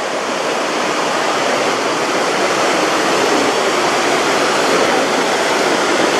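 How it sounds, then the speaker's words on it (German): Water runs down the rock walls of a gorge at Hřensko in Bohemian Switzerland, making a loud, steady rushing roar close by with no break and no voices. "Auch an den Seiten, wo hier das Wasser so runterträufelt."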